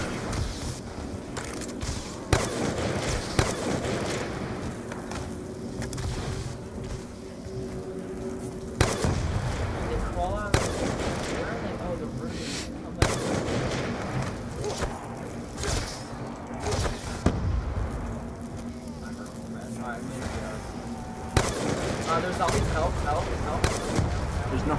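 DSR sniper rifle shots ring out in Black Ops 2 Zombies on the Town map, several sharp booming reports spaced a few seconds apart over busy game sounds, with players talking throughout.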